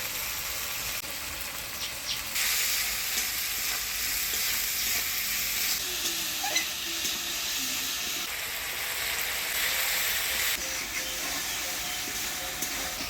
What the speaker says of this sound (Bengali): মশলাটা ভালোভাবে কষে নিলাম